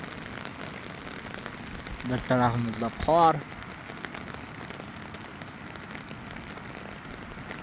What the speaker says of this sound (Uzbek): Mana shunday mayin yomg'ir bo'lyapti.